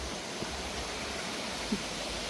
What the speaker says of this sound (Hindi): पीछे झरना है